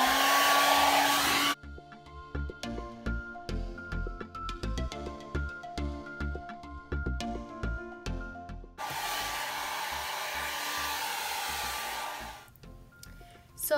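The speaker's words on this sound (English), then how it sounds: "And now I'm just gonna flip my head upside down and blow dry." A handheld hair dryer blows steadily on a head of fine, blunt-cut hair flipped upside down, loud and close, cutting out for a stretch of clattering handling noise before roaring back on; no talk.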